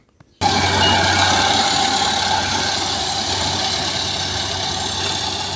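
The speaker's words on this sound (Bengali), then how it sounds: "অত্যাধুনিক এই মেশিন দিয়ে পঞ্চাশ থেকে পঞ্চান্ন মিনিটে একখানি জমি কেটে ফেলা যাচ্ছে" A rice harvesting machine works a paddy field in Matlab Uttar, Chandpur, its engine starting abruptly and then running as a steady, loud, continuous drone with a constant low hum and no voices.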